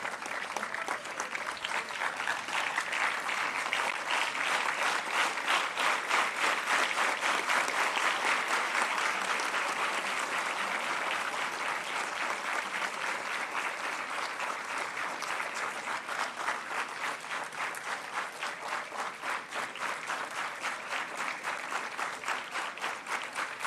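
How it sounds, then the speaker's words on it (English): Sustained applause from an audience at an Indian Army quiz event, honouring the Veer Naris, the wives of fallen soldiers; dense, steady clapping that stays loud throughout and eases only slightly toward the end. "Please stand up and give them a huge round of applause"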